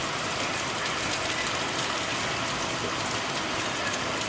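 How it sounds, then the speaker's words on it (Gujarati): Unseasonal rain falling in Vav-Tharad district in late December: a steady, even broadband hiss of rainfall throughout, dense and continuous with no pauses and no voices. "તો વરસાદ કમોસમી વરસાદ છે"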